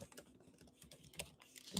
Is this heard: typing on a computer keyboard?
yes